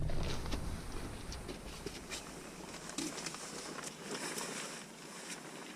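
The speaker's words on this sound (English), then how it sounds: "Rain's back again." Steady rain patters with scattered drops under a constant wash of wind noise, fairly close, during mullet fishing at Rosscarbery.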